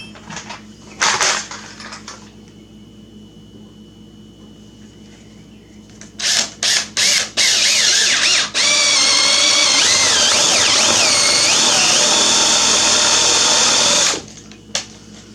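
A power drill bores a 3/4 inch hole through a wooden door for a door knob: a few short trigger bursts, then a loud sustained grinding whine with shifting pitch as the bit cuts through the wood, stopping abruptly, with no talk.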